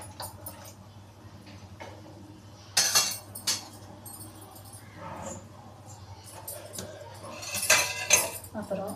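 Metal utensils scrape and clink against a pot in a few bursts, with quiet background hum and speech-like murmurs between the stirring sounds.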